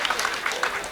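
Applause from a crowd gathered at a school celebration for a high school, a dense, steady patter of many hands clapping at once, fairly close and lively across the whole second.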